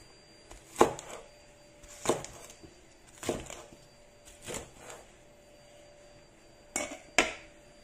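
Spring onions chopped with a kitchen knife on a board while preparing a bangus dish, a handful of crisp, close knife strikes spaced unevenly with quiet pauses between.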